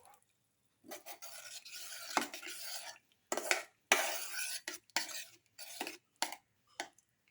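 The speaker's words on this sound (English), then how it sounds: "coconut milk and mix, and let the mixture cook for 10 minutes." A utensil scrapes and rasps through a tomato casserole in a pan as coconut milk is mixed in, close-up strokes in uneven bursts separated by short pauses.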